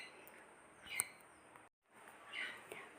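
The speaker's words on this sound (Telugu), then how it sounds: "మా అమ్మ వాళ్ళ ఇంటి దగ్గర అయితే బర్డ్స్ ఎక్కువ సౌండ్ చేస్తున్నాయి." Pet lovebirds chirp indoors in a few short, high, faint tweets that come in two brief bursts over a quiet background.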